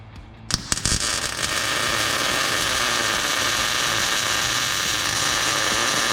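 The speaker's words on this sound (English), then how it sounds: "I'm gonna do a weld pass right beside the spring perches on each side" Welding along the leaf spring perches on a truck axle during a one-ton axle swap on a second-generation Tacoma: a few sharp pops, then a loud, steady crackling buzz that holds to the end.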